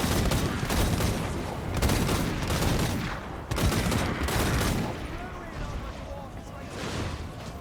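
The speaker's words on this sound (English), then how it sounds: "the Empire player even had to take Hellblast volley gun fire on the way in" A Hellblast volley gun fires in a Warhammer multiplayer battle: dense, crackling bursts of rapid shots roll out in waves, loud and close amid the wider din of the fighting.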